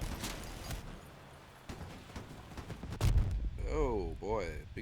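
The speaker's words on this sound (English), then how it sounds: "Big cannon shot there." A big cannon fires in a video game, a deep booming blast about two-thirds of the way through, following quieter muffled thuds, with a voice speaking over part of it and a rising warbling tone after the shot.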